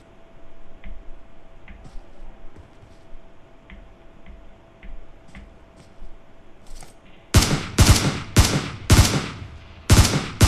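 Gunfire in a shooter video game: after a quiet stretch of faint ticking, loud sharp bursts of rapid shots break out near the end, close and harsh.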